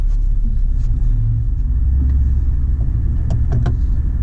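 A car drives uphill on a snowy road, its engine a steady low rumble close to the microphone that holds throughout, with a few faint knocks and clicks on top and no talk.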